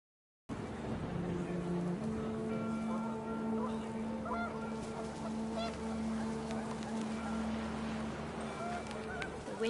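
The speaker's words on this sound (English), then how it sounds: "panicked geese appeared and quickly went" Geese honk in What Remains of Edith Finch, a cluster of panicked calls over wind and background noise, moderately close and continuing throughout.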